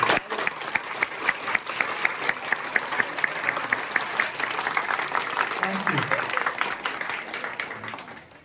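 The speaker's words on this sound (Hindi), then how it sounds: "तो आप सबके लिए, आप अपने लिए ताली बजा दें।" Children clapping for themselves after a Hare Krishna kirtan, loud and sustained group applause throughout, with a few voices briefly audible beneath the clapping.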